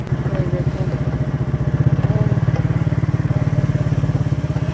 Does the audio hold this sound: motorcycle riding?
yes